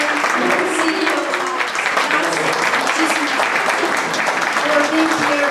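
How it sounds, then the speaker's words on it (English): Audience applause at a community breakfast event in Dallas, dense continuous clapping throughout, fairly loud, with some talk or cheering mixed in. "let's give a Chorizo Menudo applause"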